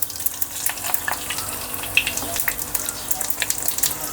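Cumin seeds sputter in hot oil for tempering a ripe banana curry, a soft, uneven crackle and light sizzle with scattered sharp pops.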